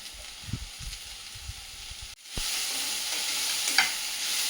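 Spiced vegetables frying on a medium flame, a quiet low rustle of stirring giving way after a short pause to a broad, steady sizzle with a faint crackle near the end.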